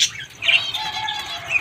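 Wings of caged doves and a finch flap in a short, close burst of fluttering as the birds are caught by hand, with faint chirps mixed in.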